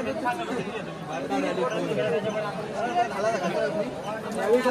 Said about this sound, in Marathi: गर्दी बघा किती गर्दी आहे. खूप गर्दी आहे इथे सध्या.